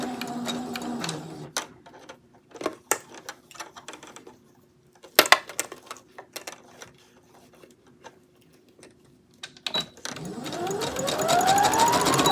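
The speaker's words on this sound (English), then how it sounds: "I'm going to back stitch a little here" A sewing machine back-stitching fabric for a maxi skirt, with short bursts of stitching separated by pauses and clicks, then a longer steady run of stitching near the end.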